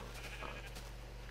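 Sheep bleating in Minecraft, a short quiet in-game bleat heard alone over a low steady hum, with no talking.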